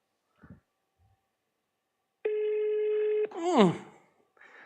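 A phone call in progress: a steady electronic tone sounds for about a second after a few faint clicks, then cuts off as a voice-like sweep follows, all fairly quiet.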